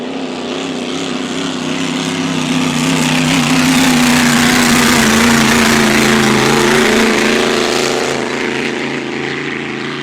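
A racing boat's brand new engine runs loud and steady at the E C Griffith Cup, a continuous droning roar that swells toward the middle and then eases slightly, with no talk over it.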